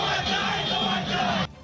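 Dense crowd roaring and yelling at a victory procession in Kolkata, a loud continuous mass of voices that cuts off abruptly near the end.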